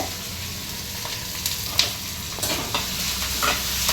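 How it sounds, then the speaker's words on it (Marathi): Curry leaves, onion and green chilli frying in a pan for a potato bhaji crackle and sizzle steadily, with scattered spatula scrapes and taps standing out over the hiss. "कढीपत्ता घालायचा, कांदा घालायचा, मग मिरची घालायची,"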